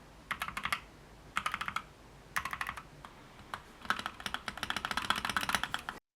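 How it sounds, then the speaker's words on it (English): Keys clatter on an NZXT Function 2 MiniTKL keyboard in quick bursts of crisp, close clicks, with short pauses between runs and a steady, denser stretch of typing near the end. "it hopefully will give you an idea of the different noises for different keyboard presses"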